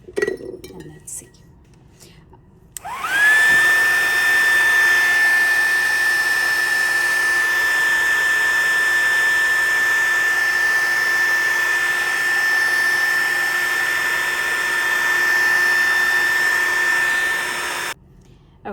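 A hair dryer blows on a wet watercolor painting, switching on with a rising whine into a loud, steady whir with a high tone, running about fifteen seconds before clicking off.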